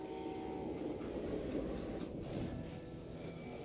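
A train rolls steadily along rails in the Call of Juarez Gunslinger video game, a dense continuous rumble and rattle at constant loudness throughout.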